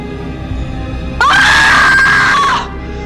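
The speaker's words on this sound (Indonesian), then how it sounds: "Katie bermimpi buruk, berteriak dan mengatakan dia tertembak di kepala" A woman in a film screams in terror as she wakes from a nightmare: one loud, sustained, high-pitched scream lasting about a second and a half, rising out of quiet room tone and then cutting off, with no other voices.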